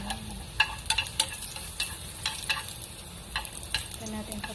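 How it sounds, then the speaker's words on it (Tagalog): Chopped garlic sizzles in a pan, a soft continuous frying hiss with irregular clicks and scrapes as it is stirred, close and moderately quiet, with a low voice briefly underneath. "Ito natin papulahin yung bawang."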